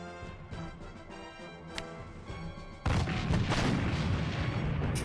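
Artillery fire in the OpenGeneral strategy war game, set in the Polish-Bolshevik war at Daugavpils, with a sudden loud booming blast followed by a sustained rumbling barrage of crashing impacts after a quieter musical background.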